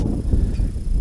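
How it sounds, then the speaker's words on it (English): Gusting wind roars across the microphone at an outdoor high school baseball game, a steady low rumbling buffet that swells and dips for about a second with no speech. "another gust of wind picks up here that I'm sure you can hear"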